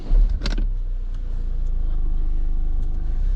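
A car engine is started, with a short burst of cranking and a catch at the start, then a steady low idle rumble continuing close by inside the vehicle, no voices.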